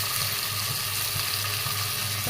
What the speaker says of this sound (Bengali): এখন আদা রসুন বাটা দিয়ে দিলাম